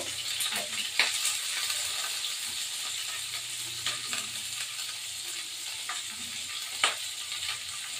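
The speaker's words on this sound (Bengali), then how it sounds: "এই আলুগুলো আগে ভাজবো।" Potatoes and cauliflower frying in an oil-filled pan, a steady bright sizzle and hiss with occasional spatula scrapes and taps, close and continuous.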